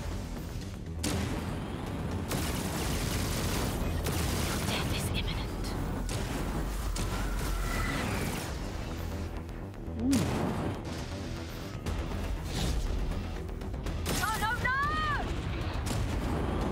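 Turrets firing in the video game Chorus, rumbling blasts and explosive booms under game effects and talking voices, with sweeping tones cutting through.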